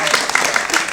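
Audience at a film festival Q&A screening breaks into brief, dense applause, a quick burst of many hands clapping close by.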